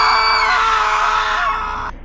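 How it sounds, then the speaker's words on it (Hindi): A high, sustained scream rings out loud and alone for nearly two seconds, then cuts off abruptly. It comes from a Hindi cartoon horror story set in a haunted forest. "और उनकी बस चीखें सुनाई दी।"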